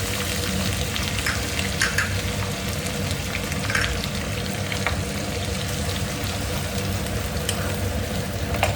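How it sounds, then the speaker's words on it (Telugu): Onions sizzling steadily in hot oil with cumin seeds, frying continuously at close range with occasional stirring scrapes and crackles, no voices. "ఇప్పుడు కాగింది కదండి, మనం ఆనియన్స్ అనేది యాడ్ చేసేస్తున్నాం"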